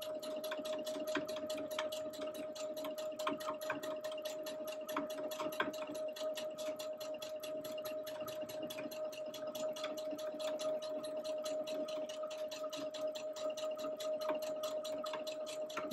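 A sewing machine stitches steadily around the outer edge of a quilt, a continuous fast mechanical whir with a constant hum, fairly quiet and with no talking.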